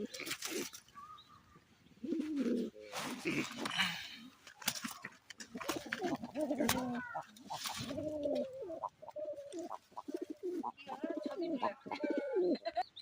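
Red Capuchine pigeons on a pigeon farm give off repeated cooing and soft calls, moderately close, with scattered clicks and shuffling noises around them.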